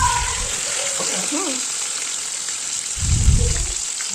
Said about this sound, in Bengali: তারপরে কিন্তু আমি এই স্টিকগুলোকে আস্তে আস্তে কড়াইতে দিয়ে দিলাম।